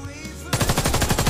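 Rapid, loud automatic gunfire from a PP-19 Bizon in the shooter game Warface breaks out suddenly after a quiet moment and continues as a fast, even burst of close shots.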